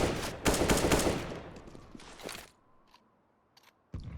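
Rapid gunshots in Counter-Strike on the Nuke map, a dense burst of shots followed by a sharp single report, then quiet before another loud shot at the end.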